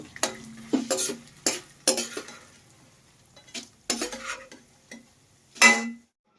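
Almonds are stirred in a pan of ghee as they fry, a spoon scraping and clinking against metal in irregular bursts with a faint sizzle between strokes, close and clear with no talking.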